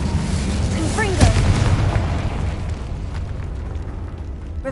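Confringo blasting spell cast in Hogwarts Legacy, a single sharp burst over steady game ambience and music, fading into a low rumbling tail.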